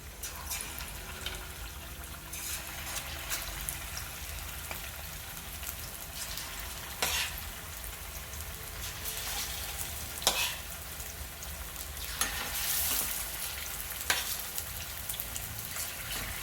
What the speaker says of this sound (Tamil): ஒரு பேனில் எண்ணெய் விட்டு எண்ணெய் காஞ்சதும் ஒன்றா போட்டு ஃப்ரை பண்ணி எடுத்துடலாம்.